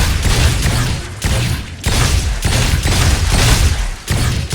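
Repeated gunshots ring out at a video game shooting range, a run of loud, sharp reports spaced roughly half a second to a second apart, each with a short booming tail, and no talking over them.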